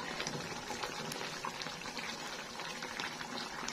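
Tomato sauce with tilapia bubbles and simmers in a pan, a soft, close, continuous popping and gurgling with no speech over it.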